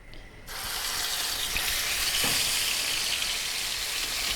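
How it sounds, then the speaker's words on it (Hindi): Crushed garlic hits hot oil in a pan and breaks into a steady sizzle after a quiet start, continuing evenly throughout with no speech. "लहसुन को हमने यहाँ पर हल्की आंच पर सौते कर देना है।"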